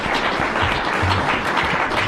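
A comedy club audience applauds a comedian, a dense, steady wash of clapping that holds level throughout with no voices on top.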